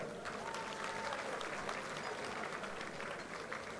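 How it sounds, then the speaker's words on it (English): A gala dinner audience at a congress breaks into steady, dense applause, many hands clapping together at an even level throughout, fairly distant and with no voice standing out. "Let's give him a big hand clap."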